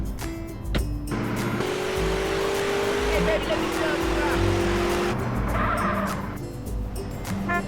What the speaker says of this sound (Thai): ผมขออนุญาต ขับรถรอบเมืองสักหน่อยก็แล้วกัน